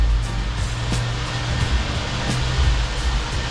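A self car wash wand sprays soap onto a car in a steady, close hissing rush of water and air, with a low machine hum underneath and no pauses.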